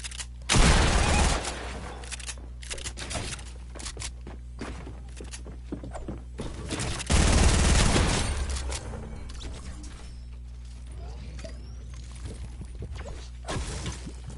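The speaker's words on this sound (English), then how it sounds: "This shotgun sucks." Shotgun blasts in the Fortnite battle royale game, two loud broadband bursts several seconds apart, with footsteps, thuds and scattered in-game effects between them and no talk.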